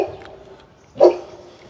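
A pet dog gives a single short bark over quiet room ambience, one sharp burst in an otherwise still moment.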